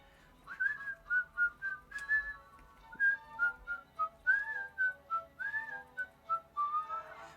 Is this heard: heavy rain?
no